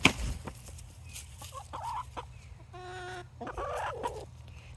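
Hens clucking nearby, with a few short calls and a sustained harmonic cluck, over a steady low background hum and scattered small taps.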